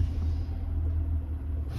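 Air brake on a real truck, worked from the brake pedal inside the cab, sounding as a steady low rumbling hiss that holds close and loud for the whole stretch with no talk over it.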